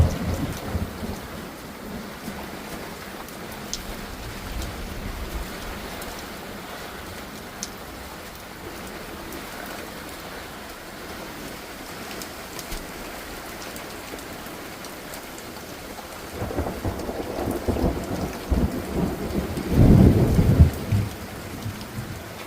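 Steady monsoon thunderstorm rain hisses on surfaces with wind, then grows heavier near the end, where a loud, close rumble of thunder rolls through.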